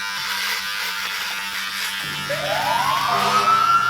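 A Harry's electric trimmer runs close to the microphone with a steady buzz, then its motor pitch slides upward and holds a higher whine toward the end.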